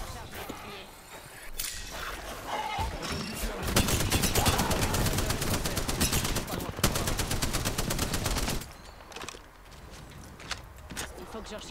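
Rapid gunfire in the Apex Legends video game, dense bursts of automatic shots and sharp cracks that swell loud and continuous for several seconds, then drop back to quieter background game sound.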